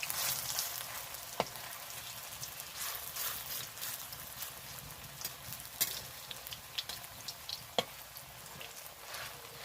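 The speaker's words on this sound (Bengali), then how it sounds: "একদম খন্তি দিয়ে আমি চেপে চেপে মুচমুচে করে ভেজে নেব" Mustard flower fritters deep fry in hot oil in a home kitchen, giving a steady, soft sizzle. Sharp clicks and scrapes come now and then as a metal spatula presses the fritters and knocks the pan. No one speaks.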